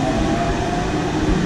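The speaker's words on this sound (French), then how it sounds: "C'est le métro qui est juste au-dessus." A metro train rumbles through the tunnel directly overhead beneath the Canal Saint-Martin, a loud, steady low roar that fills the whole clip with no voices.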